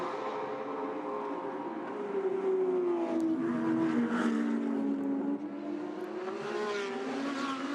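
GT race cars, including an Audi R8, race at Bathurst in the GT World Challenge Australia, engines roaring steadily with rising and falling revs as cars pass, loud and continuous without any talk.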